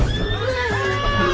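A horse in the video game Red Dead Online lets out a loud, wavering whinny that rises and falls over about a second, with crowd-like background noise behind it.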